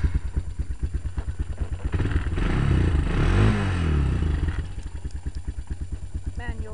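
A Honda Recon 250 ATV engine with a manual choke idling up close, a steady rapid chugging thump that swells briefly in the middle before settling back to an even idle.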